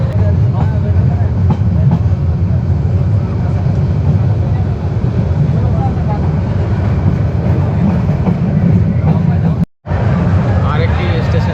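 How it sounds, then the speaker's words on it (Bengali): A train pulling out of Narsingdi railway station on the Dhaka to Kishorganj line rumbles loudly and continuously with a heavy low drone and faint rail clatter, broken by one brief dropout near the end. "নরসিংদী রেল স্টেশন থেকে আমরা চলে যাচ্ছি সামনের দিকে।"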